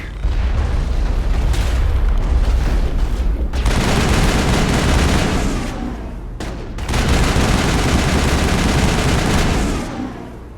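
Dense in-game gunfire rattles through a geth assault on Feros in Mass Effect, with loud bursts and booms packed together, a short lull near the middle, then sustained firing resumes.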